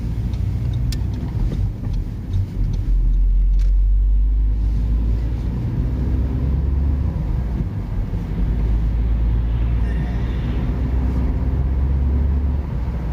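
A 2011 Seat Leon Copa 1.2 TSI's small engine runs at a steady low idle, a continuous close rumble with a deep throb and no voices.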